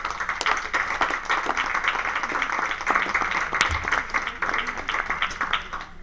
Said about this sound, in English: the rest of us will give you a big round of applause